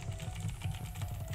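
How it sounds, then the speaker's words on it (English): Rapid typing on a computer keyboard, a run of close, crisp key clicks in quick irregular rhythm with no talking. "You definitely still hear my clicking. And my typing."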